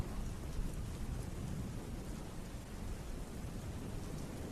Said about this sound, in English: The rain started as a whisper, soft droplets against the pavement, gentle tapping on window panes.